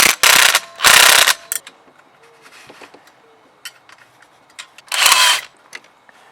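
A socket ratchet tightening the exhaust plate bolts on a paramotor, loud bursts of rapid clicking pawl ratcheting separated by quieter fiddling and small metallic taps, close up and without talk.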